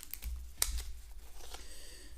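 Plastic packaging crinkles and clicks as a model railway turnout is unwrapped, giving faint, close, irregular crackles and taps with short gaps between them.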